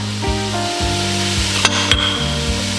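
Garlic and a spoonful of balsamic vinegar sizzle hard in a pot with beef for a pot roast, a steady close frying hiss with a couple of light utensil clinks as the mixture is stirred.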